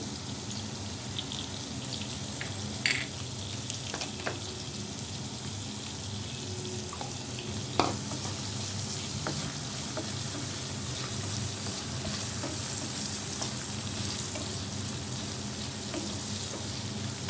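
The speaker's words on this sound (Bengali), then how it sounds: "এই আলুগুলো আগে একটু ভেজে নিই, একটু নুন দিয়ে দিচ্ছি" Potato pieces frying with a pinch of salt in a pan, a quiet continuous sizzle with two sharp clicks of a utensil, heard alone without talk.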